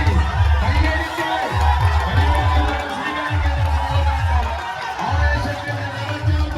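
A large crowd cheers and shouts loudly during a tug-of-war match between Rivals Paniyeri and YCV Vazhakkulam. Excited voices rise in repeated waves throughout.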